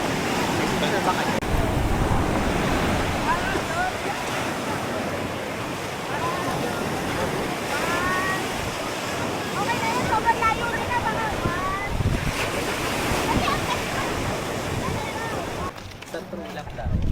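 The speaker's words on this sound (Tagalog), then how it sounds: "We are here in Puka Beach and look at the wave." Strong ocean waves surging and breaking at Puka Beach in Boracay, a loud, constant rush of surf mixed with wind buffeting the microphone, while people talk over it throughout.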